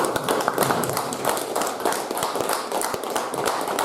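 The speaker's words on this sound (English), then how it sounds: "How about a big round of applause for our audience?" A round of applause from the audience at a McCreary County, Kentucky sheriff's debate, a loud, dense, continuous patter of many hands clapping from start to finish with no talk.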